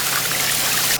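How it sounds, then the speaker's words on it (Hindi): Water pours steadily onto banana trees, a continuous close splashing rush that cuts off at the end. "तुम पहले केले के पेड़ों को पानी डालो।"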